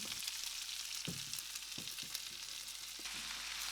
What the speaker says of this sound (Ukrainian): І зараз будемо обсмажувати до золотистого кольору та прозорості цибулі.